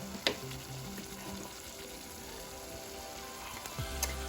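Mixed vegetables sizzle steadily in a pan, a continuous close frying hiss with a couple of sharp clinks of a utensil near the start and end, and no talking.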